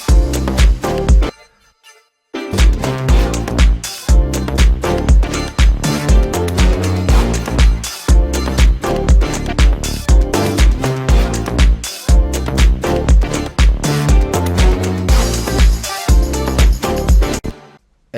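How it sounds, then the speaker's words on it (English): A brittle, edgy, high-end synth sits inside a dense electronic production mix, with loud rhythmic beats pumping in short repeated bursts, a brief dropout near the start, and no talk. "this brittle synth that's sort of high-end, edgy sound"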